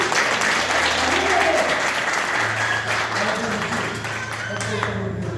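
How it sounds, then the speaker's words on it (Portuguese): Steady applause from a church congregation fills the room continuously, with voices talking and calling out underneath the clapping. "Bate palma para Jesus."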